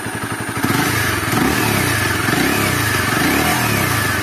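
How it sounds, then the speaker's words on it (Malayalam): A Honda CBR 250R motorcycle engine runs with its exhaust note, a loud close rumble that rises from a pulsing idle into a steady, slightly wavering rev with mechanical clatter. "ശരിക്കും പറഞ്ഞാൽ ഈ എഞ്ചിൻ്റെ ഭാഗത്തു നിന്നൊരു ഒരു സ്പെഷ്യൽ നോയിസാണ്."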